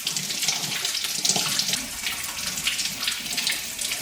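A kitchen tap runs in a steady close stream as curry leaves are rinsed beneath it, the splashing rising and falling slightly with no talking.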